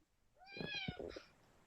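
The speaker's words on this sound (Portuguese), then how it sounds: "Do nada tem um gato miando." A cat gives one drawn-out, rising-and-falling meow somewhere in the room during an online science class, fairly faint and with no talk over it.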